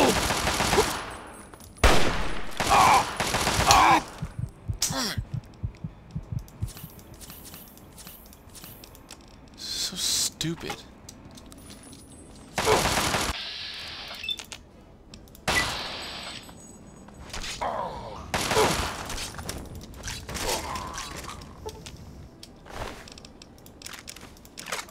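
Assault rifle fire in Fallout 3 crackles in sharp bursts and single loud shots scattered over about twenty-five seconds, some rapid volleys close together, with quieter gaps between and occasional shuffling sounds.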